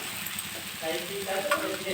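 Jowar flour dosa batter poured onto a hot pan and sizzling, a steady close hiss with faint light scraping for two seconds, no voices.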